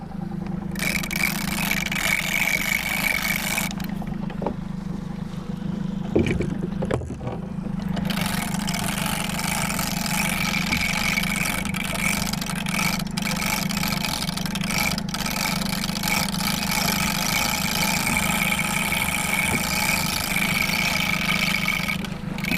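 A boat's outboard engine runs steadily on the water, a continuous low drone that holds at an even idle throughout, with a brief clatter partway through.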